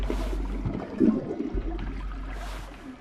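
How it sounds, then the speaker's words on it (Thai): Toilet flushing in the horror video game Dark House, a rushing, gurgling swirl of water that swells and then trickles away, heard close and alone. "กดชักโครกอยู่"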